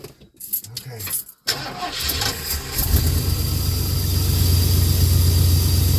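A car engine cold-starts after an Edelbrock carburetor rebuild, cranking briefly, then catching and settling into a loud, steady idle close to the mic.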